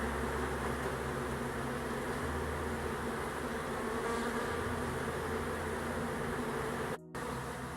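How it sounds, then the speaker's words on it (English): Honey bee swarm buzzing around a caged queen in a box, a dense continuous hum close by that holds steady apart from a brief dropout near the end. "We have a queen in a cage, so we have a swarm in a box."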